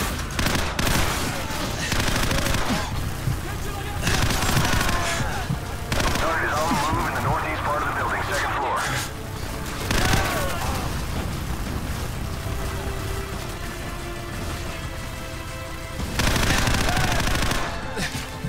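Dense bursts of gunfire in Call of Duty 4: Modern Warfare fill the scene, with rapid automatic fire and heavy blasts running almost throughout and swelling loudest near the end, mixed with game noise and some voices.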